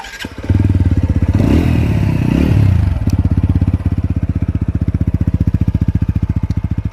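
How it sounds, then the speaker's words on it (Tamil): A TVS Apache RTR 200 4V motorcycle engine cranks and fires, revs briefly, then settles into a loud, close, evenly pulsing idle with a throbby double-barrel exhaust note. "டபுள் பேரலோட சவுண்டு இதுதான் அந்த அப்பாச்சிக்கான அந்த வைபான சவுண்டே."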